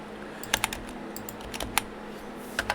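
Typing on a computer keyboard: sharp, irregular clicks of individual keystrokes, close and fairly quiet, spaced out with short pauses over a steady low hum.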